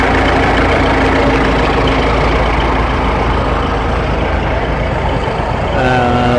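A vintage Case Super Diesel tractor rumbles loudly and steadily up close during a parade. A short high tone sounds near the end.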